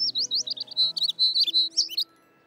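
A baby bird in a cartoon chirps in a rapid run of high, sweet tweets lasting about two seconds, close and clear over a soft background tone with no voices.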